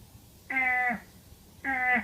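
A man imitates a deer call with his voice, two short nasal bleating cries spaced about a second apart, close and alone against a quiet background.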